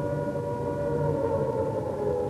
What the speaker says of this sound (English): Minutes after war was declared, on the 3rd of September 1939, air raid sirens went off in London.